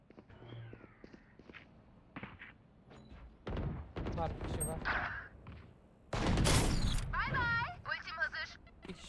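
Gunshots from the video game Valorant come as scattered single shots and short bursts, moderately loud against faint footsteps. A player talks over the action.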